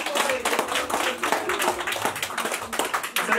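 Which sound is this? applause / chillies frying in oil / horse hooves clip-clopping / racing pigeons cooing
applause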